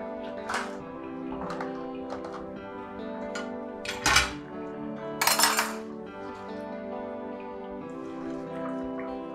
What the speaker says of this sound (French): je suis en train de faire la vaisselle